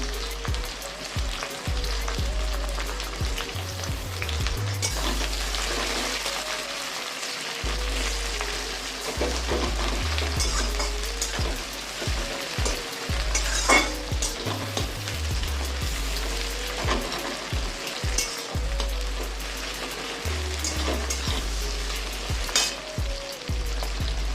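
Onion, tomato and garlic fry in a pan for a vegetarian snake gourd ghonto, giving a constant sizzle with frequent scraping stir strokes, close and clear with no talk.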